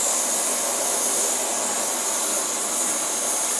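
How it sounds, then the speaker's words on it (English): An MSR Whisperlite Universal camping stove, fed by a Primus Himalaya Omni Fuel pump, gives a steady, close, airy hiss as its fuel tank loses pressure, with no voices over it. "you can still hear the stove just hissing away"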